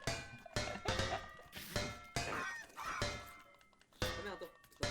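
Rhythmic honking chicken clucks from the horror game Pacify, repeated loud bursts in a steady pulse, close and clanging, with faint voices in the background.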